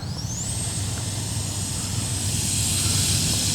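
A FlyFans L-39 Black Diamonds RC model jet takes off from a grass field. Its turbine-like whine climbs quickly in pitch, then holds a loud, steady, continuous roar with a hissing wash.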